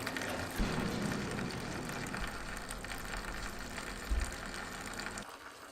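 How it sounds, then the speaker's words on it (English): Old fuel gushes and splashes steadily out of a motorcycle tank, a continuous wet pouring rush with a brief louder surge near the end before it cuts off. "Let's get this old fuel out."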